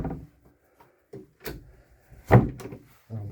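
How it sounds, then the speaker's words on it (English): Cabin doors on a Haines 32 Sedan motor cruiser are pulled shut, giving a few close thuds and latch clicks spread over several seconds, with the loudest knock near the middle and no talk. "So just close those doors."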